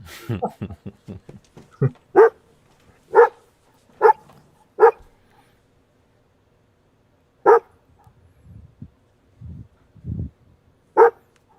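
A dog barks in a quick run of sharp yips, then gives several slower, louder barks spaced apart, with softer low grunts and whimpers in the pauses.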